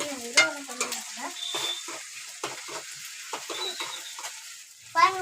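Meat fry, kari varuval, sizzles softly in a pan while a ladle stirs and scrapes it, with intermittent metallic clinks and people talking over the cooking.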